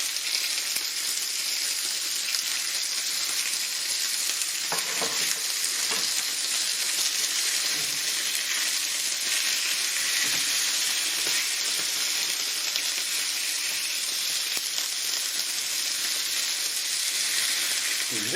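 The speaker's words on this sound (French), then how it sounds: "Ensuite, y déposer la côte de bœuf. Voilà, joli bruit." Beef rib steak sizzling on a hot grill, a dense, steady crackling hiss close by throughout, with faint clinks of handling.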